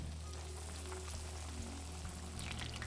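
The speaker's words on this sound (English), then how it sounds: "laying our chicken into the oil and frying until the first side is golden brown" Quiet, steady sizzling and crackling of chicken cutlets frying in hot oil, constant throughout with a low background hum.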